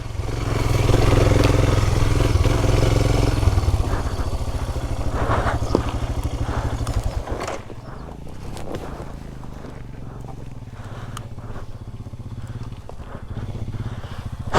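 A brand-new 2021 Royal Enfield Himalayan BS6 motorcycle is ridden off road over rock, dirt, mud and gravel. Its engine gives a steady, loud, throbbing rumble that eases to a lower idle partway through, with clattering bumps and a few vocal sounds.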